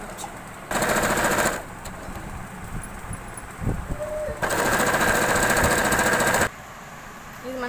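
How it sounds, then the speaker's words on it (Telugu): A sewing machine stitches a cloth hair band made from old clothes, running in two loud, fast-chattering bursts of a few seconds each, close by, with quieter handling and room noise between them. "ఇది మనం స్టిచ్చింగ్ చేస్తామండి."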